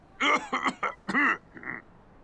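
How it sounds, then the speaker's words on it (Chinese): A man coughs several times in a short run of harsh, close bursts, the last one weaker and trailing off. "咳嗽好点没？"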